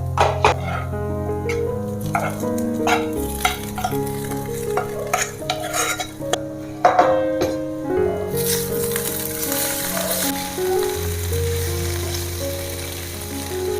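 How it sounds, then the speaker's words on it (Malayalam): Chicken liver stirred in a hot pan for a liver roast, with continuous frying sizzle and repeated scraping and clanking of a spoon against the pan, close and steady. "നമുക്ക് ഈ സമയത്ത് കരൾ ഇതിനകത്തോട്ട് ഇട്ട് കൊടുക്കാം"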